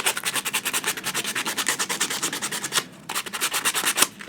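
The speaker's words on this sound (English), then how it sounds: "Sanding off," A plastic AT-PT chicken walker model being sanded with 100 grit sandpaper, in quick rhythmic rasping strokes, up close and crisp, with a brief pause before the scrubbing resumes.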